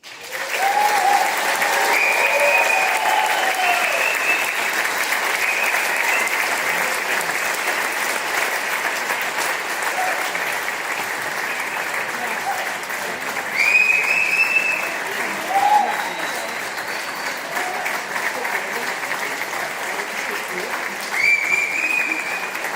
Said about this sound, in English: Please, one more round of applause for Jack Patrick.